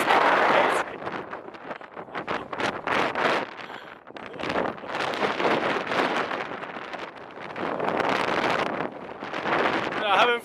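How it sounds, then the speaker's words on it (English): Strong wind roars across the slopes of Vesuvius and batters the microphone in heavy, surging gusts, while a person talks intermittently beneath the buffeting. "It's windy."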